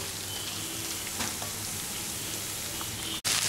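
Chopped tomatoes frying in a pan while mutton paya is cooked, giving a steady, close, continuous sizzle and crackle with no talk.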